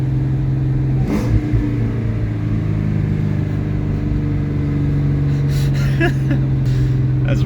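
A 1999 Mustang Cobra with a manual transmission and a hanging-RPM fault, its engine droning loud and steady at held revs, with a brief surge and a jolt as it lurches into gear.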